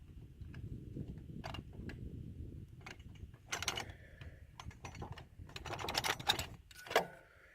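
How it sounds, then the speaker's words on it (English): Hitch pins are worked free by hand from a Kubota BX25D 3-point hitch, with close metallic clinks, taps and rattles in irregular clusters over a low rumbling background, growing busier toward the end. "let me show you how I take these pins out without tools."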